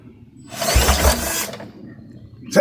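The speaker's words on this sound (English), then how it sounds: "The bit snapped. Yeah, snaps the bit." A drill bit twisting under torque while working on a scrap lawn mower trailer build, a grinding ratcheting whir for about a second, then quiet and a short sharp snap at the end.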